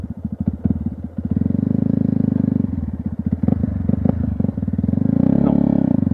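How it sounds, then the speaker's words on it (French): A Yamaha YZF 125 R sport motorcycle revs on a motocross dirt track, its close, loud engine pulsing and surging with throttle changes as it pulls a wheelie. "Pour narguer Silk, je vais faire un wheeling sur un terrain de cross avec une YZF."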